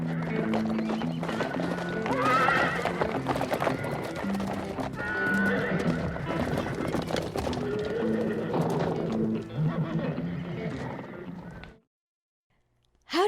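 A young colt being ridden neighs and whinnies loudly over busy clip-clopping hooves, with birds and pigeons cooing in the background before it cuts to near silence.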